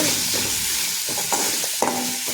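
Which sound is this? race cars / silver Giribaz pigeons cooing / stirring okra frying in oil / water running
stirring okra frying in oil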